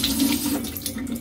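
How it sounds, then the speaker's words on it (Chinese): Tap water runs steadily over monk fruit being rinsed at a sink: a continuous close splashing stream with small shifts in the flow as the fruit is turned under it. "冲冲水洗洗佢"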